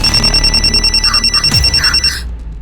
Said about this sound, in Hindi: मैम, मेरी बेटी का फोन है, अर्जेंट है, मुझे जाना होगा।